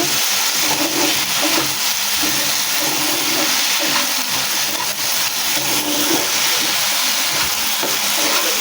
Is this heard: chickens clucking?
no